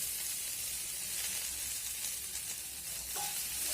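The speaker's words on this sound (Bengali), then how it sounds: "রসুনের সঙ্গে কালো জিরাটাকেও খুব সুন্দর করে ভেজে নিতে হবে" Garlic and nigella seeds frying in hot oil give a soft, even, continuous sizzle throughout, fairly quiet, with one brief faint scrape near the end.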